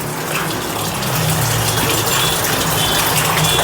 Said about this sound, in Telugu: నిమ్మరసం వేసేస్తే